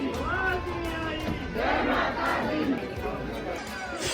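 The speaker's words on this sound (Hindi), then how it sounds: "हरिद्वार में मां मनसा देवी के दर पर भक्तों की भीड़ पहुंच रही है।" A dense crowd of devotees fills the space at the Mansa Devi temple in Haridwar during New Year, producing a continuous roar of many voices with rising and falling surges of shouting.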